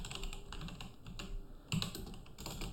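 Code being typed on a computer keyboard: a quick, steady run of light key clicks at close range, with one heavier tap near the end, no voices.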